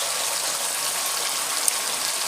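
Kitchen tap gushing water over food being rinsed after it fell on the floor, a steady close hiss of running water with no pauses.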